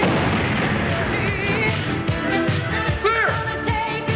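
Sharp booming blasts and gunfire-like bursts go off repeatedly over a dense rumbling action scene, with brief whooshing sweeps layered on top.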